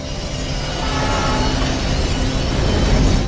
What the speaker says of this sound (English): What's that noise? The train.